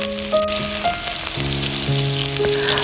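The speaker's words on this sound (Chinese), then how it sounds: "把锅中油烧热，下入葱白爆香" Scallion whites hitting hot oil in a wok, a loud, steady close-up sizzle and crackle with faint tonal hum in the background and no talking.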